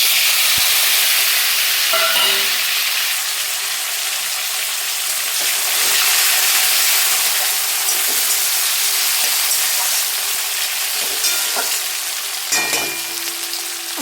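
Three raw tomatoes, sliced lengthwise, sizzle in hot oil with a tablespoon of black cumin for a fish curry. A steady, loud frying hiss runs throughout, with occasional small pops and stirring sounds.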